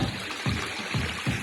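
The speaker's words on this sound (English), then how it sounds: "just getting water from a stream to cool down your head" Stream water trickles and splashes steadily on the Cornwall coast path, close and fairly loud, with recurring gentle surges as it flows, no voices.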